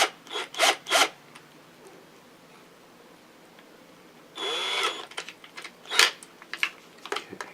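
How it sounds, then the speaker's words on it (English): A drill bit bores into a stack of clipboards, giving a few short rasping bursts early on, then a longer grinding run and scattered brief bursts, fairly close with no talk. "Making sure that the drill bit only goes through the first two and only slightly into the third one"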